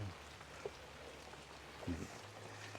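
Rain falls around a traditional folk-house museum in Ko Kha, Lampang, Thailand, as a faint, steady patter with a few louder drips and knocks, and soft voices can be heard in the background.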